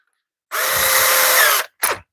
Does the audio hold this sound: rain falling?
no